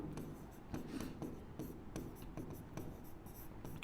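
A pen or chalk writes out a mathematics equation in short, close scratching strokes, rhythmic taps and rasps that come and go with the writing.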